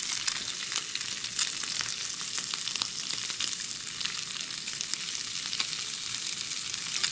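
Bacon grease sizzles in a frying pan with a bright, crackling, unbroken hiss at close range and no one speaking.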